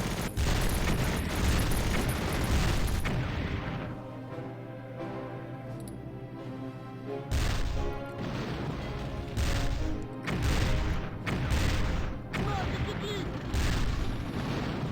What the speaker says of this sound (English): I'm actually surprised to use that many shots in taking out that vehicle